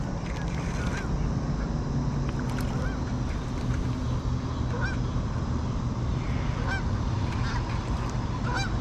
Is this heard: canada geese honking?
yes